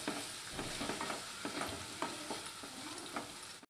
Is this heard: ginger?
yes